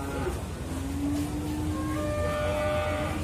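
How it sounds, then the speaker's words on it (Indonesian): Simmental cattle at a livestock market moo in long drawn-out calls, one clear low moo followed by overlapping calls from other animals against a steady crowded market hum. "Rata-rata jenisnya sapi simental."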